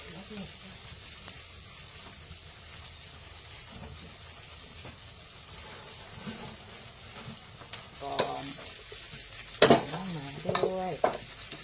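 Rice being stir-fried in a pan over lowered heat, a low steady sizzle with stirring scrapes that grow louder and more active toward the end, with someone speaking now and then over the cooking.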